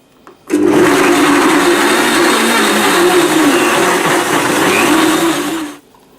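A blender runs on high, whirring loudly and steadily for about five seconds as it purees raspberries, banana, walnuts and apple juice into a smoothie, starting and stopping abruptly.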